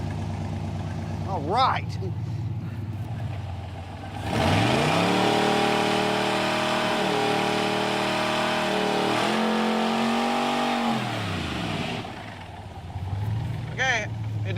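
A 1966 Corvette engine at a car wash in California cranking, catching and revving up loud and close, rising and falling in strong pulls before settling back, with brief talk before and after.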